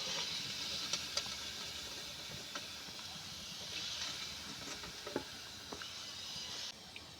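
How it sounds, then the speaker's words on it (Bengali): Kotkoti (morali) snacks fry in oil with a soft, continuous sizzling hiss, dotted with faint scattered pops and crackles. "এইভাবে আমি আবার বাকি কটকটিগুলো ভেজে নেব"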